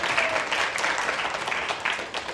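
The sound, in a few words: audience applause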